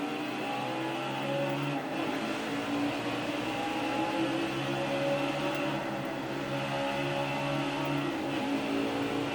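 Race car engine in the NASCAR Heat 5 video game, a loud, steady roar that holds close and continuous with slight surges as it climbs through the gears, with no talking.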